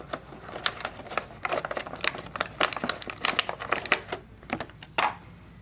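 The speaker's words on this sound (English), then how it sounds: "Let's take this plastic off." Plastic wrap is peeled off a metal phone mount in a run of close, crisp crinkles and crackles, with short pauses between them.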